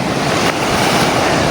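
Ocean waves wash onto a beach shore in a continuous roar of surf, with steady wind buffeting the microphone while walking along the water's edge, and no voices.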